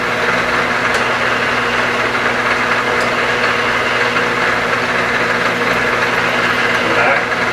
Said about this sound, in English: then when I do this, I'm just hand feeding. I'm doing traditional milling,